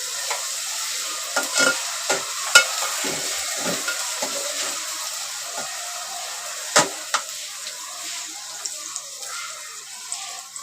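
Crushed red garlic roasts over onions in oil in a pan for squid masala, a soft hissing sizzle punctuated by several clinks and scrapes of a stirring utensil.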